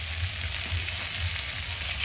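Spiced masala paste frying steadily in hot oil for a cabbage and potato curry with fish head and Kashmiri chilli powder, a continuous close sizzle with soft rhythmic stirring pulses and no voices.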